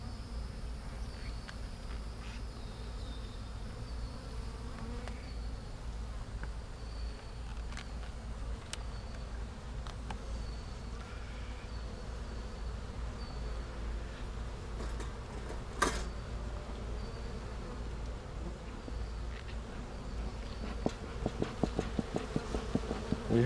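Honey bees buzz steadily around an opened beehive on a cloudy day, a dense, continuous hum from many insects close by, with a few sharper clicks and bumps toward the end and no voices.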